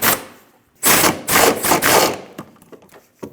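Rear differential bolts with big washers are tightened on a 2012-2016 Honda CR-V, likely with a ratchet or impact tool; loud, close bursts of mechanical rattling come in several short runs, followed by lighter clicks.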